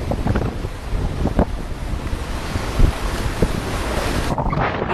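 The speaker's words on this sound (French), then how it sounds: "Les vagues nous bousculent, nous balancent, nous tanguons." Sea swell and waves rock a boat near the pilot station under steady wind, a continuous rushing wash with scattered thumps of water against the hull, wind buffeting the microphone throughout.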